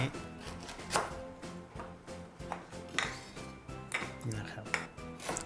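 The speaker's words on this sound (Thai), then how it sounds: "เอามาหั่นเป็นชิ้นไว้" Repeated knife strikes chopping galangal into pieces on a board, sharp knocks at an uneven pace, close by, with a brief spoken phrase.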